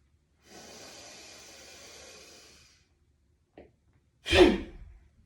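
During a breathing exercise, a long, slow exhale hisses softly for a couple of seconds, followed after a pause by a brief, sharp forceful breath out.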